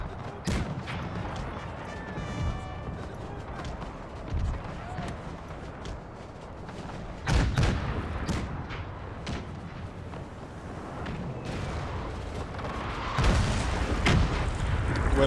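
Booming cannon and artillery fire from a Napoleonic-era battle in the Napoleon Era Mod video game, scattered blasts and crackling volleys rolling through a dense battle din, with a louder burst near the end and some speech mixed in.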